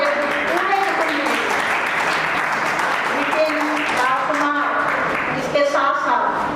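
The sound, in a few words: audience applause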